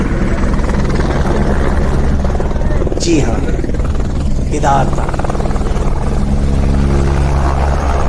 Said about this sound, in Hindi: ये देखिए, हमारा हेलीकॉप्टर उड़ चुका है और हम केदारनाथ के लिए निकल चुके हैं।